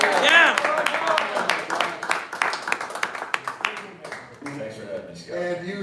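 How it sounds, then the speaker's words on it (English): Studio audience applause for guest Mike Winans on a basketball talk show, with loud, sustained clapping at the start that thins into scattered claps while a host talks over it. "keep clapping because General Manager Mike Winans is here"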